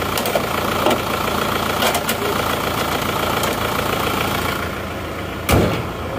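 A car engine idling during a comparison of cylinder liner repairs on a worn, smoking engine: a steady, even mechanical hum held throughout, with a brief louder knock or thump near the end.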